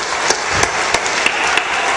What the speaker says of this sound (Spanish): Un aplauso. Feliz cumpleaños.